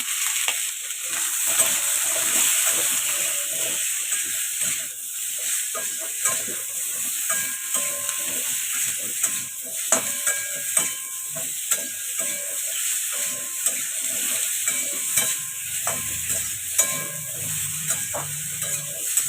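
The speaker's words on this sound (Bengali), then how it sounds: "তেলের মধ্যে আলু ফুলকপিটা একসঙ্গে ভাজবো" Loud, steady sizzling of potato and cauliflower frying in hot oil continues throughout, broken by scraping and clinking as a utensil stirs them.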